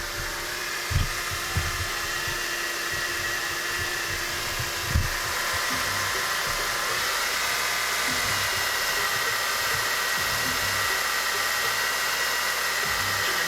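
Power steering pump cavitating with pink, contaminated fluid in the reservoir, giving a steady high-pitched whine and hiss over a low rumble, with a few soft knocks, continuous and fairly close.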